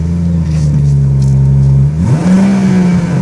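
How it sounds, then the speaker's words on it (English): A BMW M240i M Performance with a 340-horsepower twin-turbo six-cylinder holds a steady loud drone, then its pitch sweeps upward as the engine revs higher near the end, close and continuous with no talking. "Now this is the BMW twin power turbo six cylinder with 340 horsepower."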